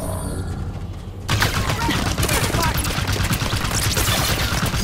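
Heavy sustained gunfire in Halo 5: Guardians, dense overlapping bursts starting abruptly after a quieter opening and staying loud and continuous during a battle against a shielded Covenant target, with voices calling out over the fight.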